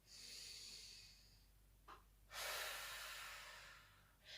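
Slow, deep breathing into the lower rib cage, with long soft airy inhales and exhales near the microphone and a short sniff between them, quiet and with no talking.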